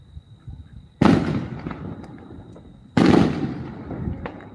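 Two loud Fourth of July firework blasts land about two seconds apart, each a sharp boom followed by a long crackling, sizzling tail, with smaller pops scattered between them outdoors.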